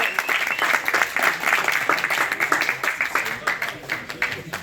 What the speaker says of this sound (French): Allez, pour François, on l'applaudit bien